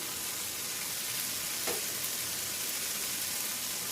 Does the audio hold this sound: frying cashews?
yes